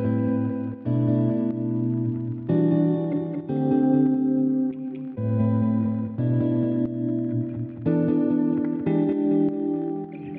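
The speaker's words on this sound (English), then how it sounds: "I started with these guitar chords" Guitar chords strummed and sustained in steady changes, thick with chorus and echo effects, playing alone with no voices.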